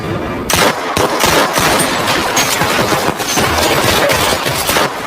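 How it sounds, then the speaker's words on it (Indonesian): Intense gunfire exchange from the action film Wolf Warrior, with rapid automatic bursts and overlapping shots running continuously and loudly throughout, dense and unbroken, without voices. "mereka saling baku tembak sampai semua amunisi habis"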